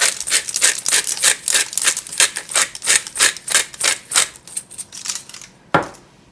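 A pepper mill grinds a teaspoon of pepper into a pot of Zuppa Toscana soup, giving a steady run of about fifteen quick, close-up gritty cranks, then one sharper click near the end.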